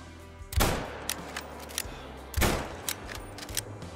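Two loud rifle shots ring out at a bear in the Arctic hunting game Call of the Wild, spaced about two seconds apart, each with a sharp crack and a rumbling tail, followed by faint clicks.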